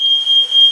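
A smoke detector in a fog-filled studio beeps loudly and steadily in three long, evenly spaced high tones, alone with no talk.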